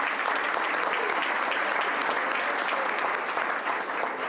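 People at a public board business meeting give a pastor a sustained round of applause, a dense, even roar of many hands clapping that holds steady throughout without speech.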